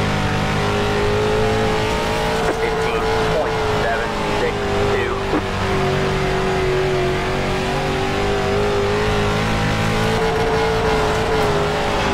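Limited Late Model race car engines in iRacing's dirt racing at Charlotte roar continuously at high revs with slight pitch swings, loud and sustained, while a commentator talks over the racing.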